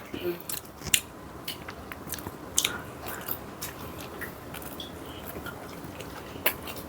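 Close-up bites and chewing on Papa John's pizza crust during a mukbang meal, with crisp crunchy bites at intervals over a steady, moist chewing sound.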